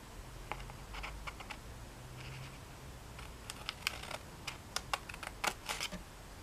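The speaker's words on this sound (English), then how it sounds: "I'm using the Couture Creations small precision scissor. Now I'm going to cut it from here to here." Small precision scissors cut paper in a series of quick, crisp snips that grow more frequent toward the end. The snips are close and fairly quiet over a faint low hum, with no talking.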